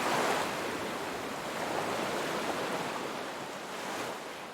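Sea waves washing in steadily, a broad continuous surf hiss with gentle swells, no voices present.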